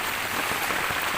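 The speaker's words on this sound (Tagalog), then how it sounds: "At inaabot na nga kami ng ulan" Steady rain falls on a mountainside, a dense, even hiss of drops with no breaks, fairly loud and close throughout, with no voices over it.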